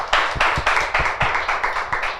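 A small audience at a fireside talk claps in a steady rhythm, about eight to nine distinct close claps in quick succession.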